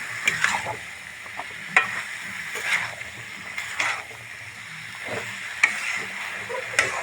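Chickpeas and dried peas sauté for ghugni in a pan, without potatoes, under a low sizzle, with a spoon scraping and stirring in irregular sharp strokes roughly once a second, close by.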